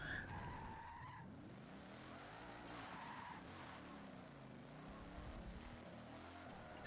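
Bugatti Chiron in the racing game Forza 7 skidding and squealing its tires through corners, a sustained engine roar with tire screech over it.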